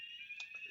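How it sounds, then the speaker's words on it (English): A home fire alarm sounds a steady, piercing high-pitched tone, heard faintly and continuously with no voices. "Sorry, my fire alarm's going off."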